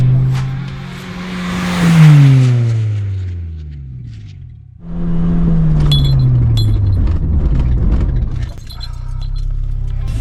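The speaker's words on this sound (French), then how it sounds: "Test de freinage avec ma EJ9. Fond de seconde. 70 km/h. On freine à la ligne et on appuie sur l'embrayage." Honda Civic EJ9 in a brake test from 70 km/h in second gear, engine revs rising and falling loudly nearby, a pause, then the engine note swelling again with clinking and rattling near the end.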